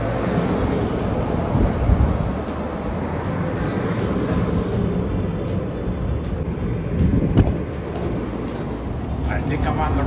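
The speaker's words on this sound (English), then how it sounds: "Time to get back on that LRT train and go in the right direction." Steady rumble of a light rail train in motion in downtown Calgary, a continuous low roar with faint rattling, heard from inside the car.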